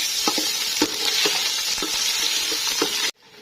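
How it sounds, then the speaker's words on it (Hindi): Garlic and ginger fry in hot oil with a steady loud sizzle, broken by a few scraping stirs of a spoon in the pan, before cutting off abruptly. "ऑयल हमारा गर्म हो गया जी, इसमें लहसुन अदरक शामिल करेंगे।"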